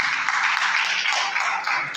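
Dense applause from a congregation at a youth church prayer meeting, a steady wash of many hands clapping that stays loud and continuous for the whole two seconds, with no clear voices above it.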